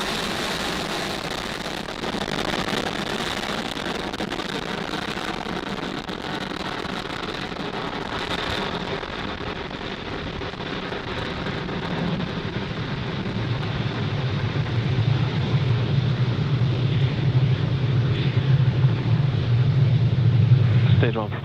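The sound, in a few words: SpaceX Falcon 9 rocket launch from Cape Canaveral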